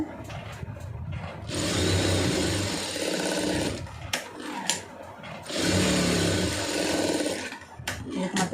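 An electric sewing machine stitches a fabric strip in two sustained, loud whirring runs of about two seconds each, separated by a brief pause with small handling clicks.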